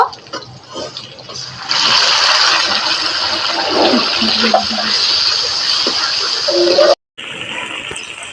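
Ground spice paste goes into mango already frying in a pan for a mango-prawn dish, setting off a loud, steady sizzle that holds for several seconds and then cuts out briefly near the end.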